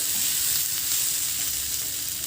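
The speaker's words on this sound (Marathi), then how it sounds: "मधून मी 2 वेळेस ही भाजी छान परतून घेतली आहे" Potato and capsicum sabzi fries on a tawa with a steady, close, even sizzle and no voices.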